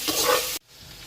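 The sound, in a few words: cumin seeds frying in oil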